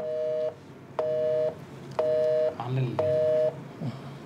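A phone line's busy tone beeps in four evenly spaced half-second pulses, steady and clear, with faint background noise during a Telugu morning news programme.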